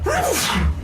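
A single sharp human sneeze, close and loud, bursting out on its own in a casual indoor conversation.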